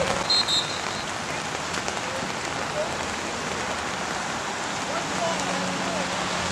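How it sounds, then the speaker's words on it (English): Steady rain pours across an outdoor U13 youth soccer match between Manchester and Seacoast, a dense even hiss with wind, while a commentator's voice and faint whistles sound over it throughout. "The rain is starting to come back to us."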